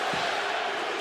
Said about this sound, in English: USA chants here at Barclays Center as this New York crowd tries to get behind one of their own